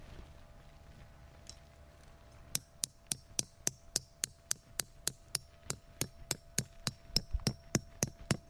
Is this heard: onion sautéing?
no